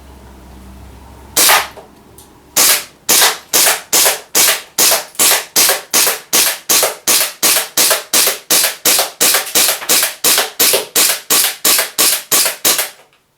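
An Army Custom Staccato 4.3 Hi-Capa airsoft pistol fires BBs outdoors in a long string of about twenty-five sharp snapping shots at a steady, even rhythm, close and loud, with no talking.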